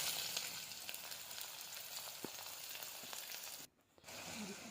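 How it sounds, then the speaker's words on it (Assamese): Onions sizzle and crackle steadily in hot oil with garlic and ginger, a dense frying hiss that drops out briefly near the end before resuming. "অকণমান ভাজি লৈ তাতে পিঁয়াজখিনিও দি দিছোঁ।"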